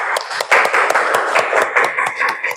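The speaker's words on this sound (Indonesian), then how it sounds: "Beri aplaus buat teman kalian" A classroom of students claps for a classmate, a dense burst of many hands applauding together, close and lively, lasting a few seconds.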